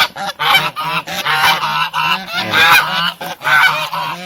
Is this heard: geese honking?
yes